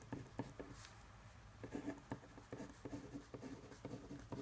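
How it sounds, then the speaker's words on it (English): Pen or pencil writing numbers on paper while working a math problem, quiet close scratching strokes in short irregular bursts, with no talk. "so I'm actually going to write this one below here"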